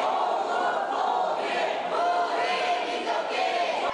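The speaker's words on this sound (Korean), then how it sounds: "시민들의 환호 소리를 받으며 북한 선수단이 모습을 드러냅니다." Citizens cheer and call out in welcome as a North Korean shooting team of 22 athletes arrives for the Changwon World Shooting Championship, a steady, dense crowd roar of voices holding at constant loudness throughout.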